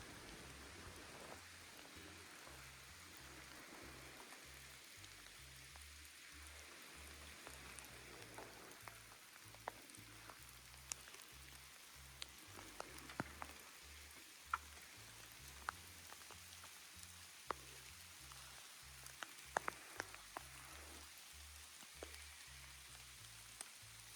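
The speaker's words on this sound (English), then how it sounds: "the rain is coming down a little harder" Steady rain falls in a redwood rainforest in Jedediah Smith State Park, California, a continuous soft hiss with scattered close drips and patters landing on nearby surfaces.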